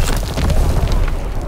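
Mortar rounds exploding in Call of Duty WWII on Sainte Marie Du Mont, a deep rumbling boom that fills a second and a half, loud and sustained without a sharp attack.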